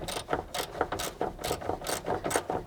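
Ratchet wrench clicking steadily while tightening nuts during an Öhlins coilover install on an R33 Nissan Skyline GT-R, a rapid repeated ratcheting rhythm in short bursts, close and clear with no talking.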